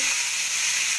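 Cauliflower and potato bhaji frying: a steady, close hiss of sizzling oil with no voices.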